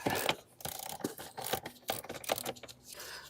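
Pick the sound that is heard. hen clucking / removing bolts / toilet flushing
removing bolts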